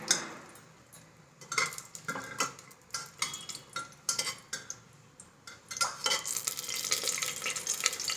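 Cashew nuts frying in a pan for Bengali-style basanti pulao, stirred with a utensil that scrapes and taps the pan over and over in an uneven rhythm, close up, with a sizzle that swells near the end and no talk.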